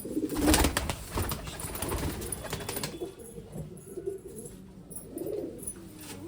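Pigeons coo in soft, repeated low calls from close by in a loft in Amritsar, over a background of rustling and shuffling.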